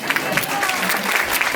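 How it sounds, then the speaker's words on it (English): An audience at a funny devotional drama for a Janmashtami kirtan claps in a brief burst of applause, dense and fairly loud, with crowd noise mixed in. "Give him a round of applause."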